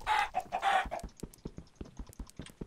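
Minecraft chickens clucking in a few quick bursts of calls, then a steady run of light tapping steps continues alone.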